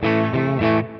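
An electric guitar run through a Sonicake Matribox Tweed Deluxe amp model with a little reverb, three sustained, slightly driven notes ringing out loudly in about a second.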